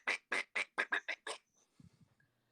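A person does a duck imitation: seven crisp, evenly spaced nasal quacks in quick succession, loud and close, followed by a few faint low murmurs.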